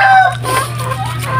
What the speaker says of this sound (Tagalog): Nag-aaway-aaway po ang ating mga inahin.